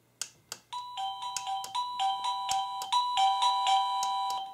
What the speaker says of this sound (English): Down below here, I have the ability to change the chime or the ringtone